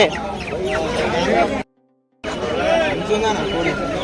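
Native country chickens cluck and squawk at a busy Sunday market in Erragadda, close and loud amid chatter of people talking, broken by a short silent gap.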